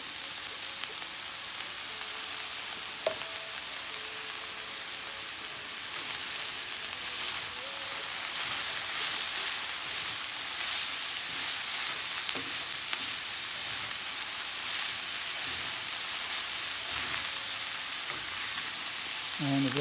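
Carrots stir-fry for hoisin turkey noodles in a hot pan, giving a steady, close sizzle and crackle with occasional scraping and tossing clatter throughout.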